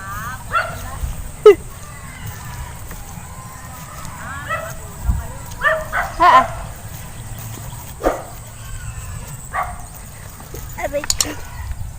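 A dog barks in short, sharp bursts near a rice field, scattered through the clip at varying distances while people talk, with faint yips mixed in.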